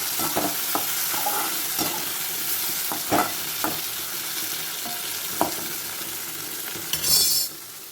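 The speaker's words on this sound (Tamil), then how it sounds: "தக்காளியை சேர்த்து நல்லா மசியை வதக்கிக்கணும்" Tomatoes sautéed and mashed in a pan for oil brinjal kuzhambu give a steady close sizzle, broken by scattered scraping stirs and a brief louder hiss near the end.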